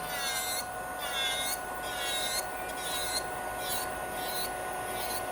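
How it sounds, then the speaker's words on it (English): Nail file rubbing across a thick acrylic nail to thin the bulk, with a soft, rhythmic rasp that repeats in short strokes, quiet and close with no talking. "So you can see I'm not even filing right to my nail plates, just removing the bulk."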